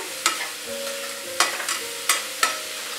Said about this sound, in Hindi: मूली को प्याज मिर्च में अच्छे से मिक्स कर लेंगे